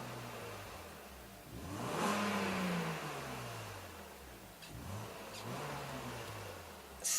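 A BMW Z3 with a 200-horsepower six-cylinder engine, heard from inside the low-slung roadster, gives a muffled, subdued drone that rises and falls with a couple of gentle revs, with no one talking.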